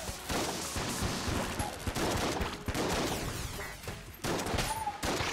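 Video game gunfire in Enter the Gungeon, a dense run of rapid shots and bursts, loud and close, with brief gaps between volleys.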